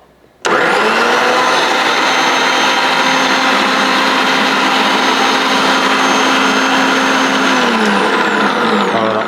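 An all-in-one kitchen vegetable chopper gadget runs with a loud, steady motor whir that starts abruptly and holds evenly for about nine seconds before cutting off.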